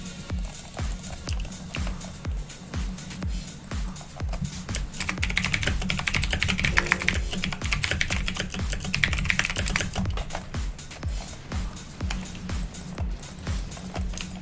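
Steady, rapid typing on a computer keyboard during a ranked League of Legends match, dense clicking keystrokes continuing for the whole stretch at close range, with faint game sounds underneath and no talk.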